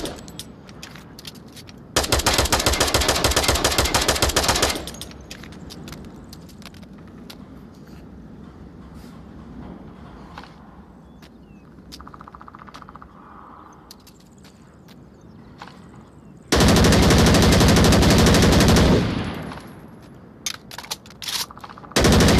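Two loud, sustained bursts of automatic AK rifle fire in the VR shooter Onward, each lasting a couple of seconds, separated by quieter handling clatter and movement noises.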